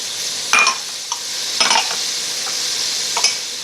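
Onion and thyme frying in melted butter in a pan, a steady close sizzle with occasional scraping clicks of a spoon as it's stirred.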